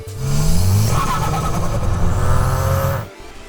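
A VW MK7 or Audi 8V 2.0T turbo engine breathing through an IE cold air intake revs up loudly. A rising, throaty pull holds for about three seconds, then cuts off sharply.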